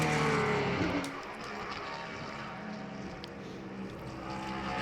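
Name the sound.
Grand Touring race car at SCCA National Championship Runoffs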